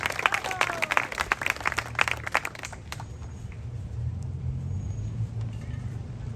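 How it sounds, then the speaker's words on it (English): Crowd applause for a fire department color guard at an outdoor Flag Day celebration in Porterville, California: dense, sharp clapping for about three seconds that fades into low rumbling crowd and traffic background. "Let's give them a big round of applause"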